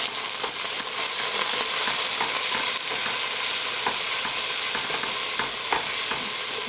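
Ginger garlic paste and green chutney frying for a black chickpea curry, with a dense, close sizzle and quick, irregular scrapes of a spoon stirring against the pan.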